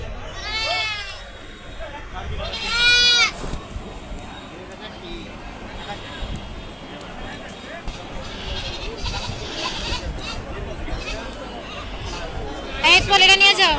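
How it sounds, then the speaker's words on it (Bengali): Goats bleat repeatedly at an outdoor cattle and goat market, with several clear calls near the start and end over a constant murmur of crowd chatter and talking. "এখানে আজকে গরু ছাগলের হাট বসছে।"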